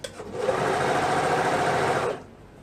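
A sewing machine stitches elastic directly onto children's pajama pants, running in one continuous fast whir for about two seconds before stopping, close and loud with no talk.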